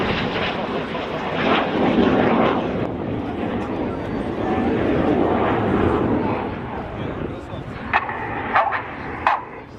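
Red Arrows jets performing an aerobatic air display, a broad continuous roar of jet engines rising and falling as the aircraft pass overhead, with a few sharper bursts near the end and crowd noise or voices mixed in.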